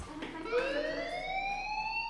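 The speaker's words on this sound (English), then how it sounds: "Hey, do you hear that fire alarm?" A rising electronic fire alarm tone sounds in the video game Life Is Strange, sweeping upward and holding steady, loud and continuous throughout.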